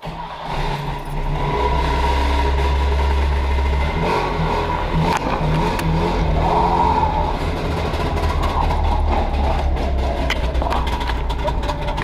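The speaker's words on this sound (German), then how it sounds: "So springt ein Mikuni-Vergaser an." An engine fitted with a Mikuni carburetor runs in a speedshop, a loud, steady low rumble with rising and falling revs throughout.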